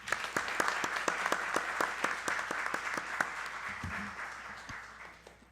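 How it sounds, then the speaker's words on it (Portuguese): An audience applauds during a council special session for Black Women's Day, with dense clapping that holds steady and then gradually fades out. "Eu queria que todos dessem uma salva de palmas para a nossa amiga,"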